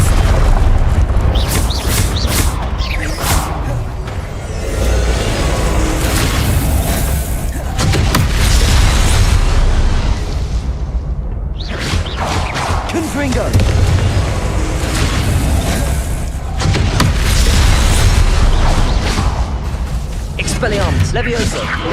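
Confringo blasting-spell explosions in the Hogwarts Legacy video game: loud, dense booms and blasts recur throughout, mixed with game effects and a voice speaking over them.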